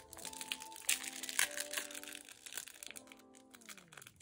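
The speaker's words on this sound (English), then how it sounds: "And then we'll open these stickers." Pack of stickers being opened, plastic packaging crinkling and crackling in quick irregular bursts close to the listener, with faint soft music underneath and no talking.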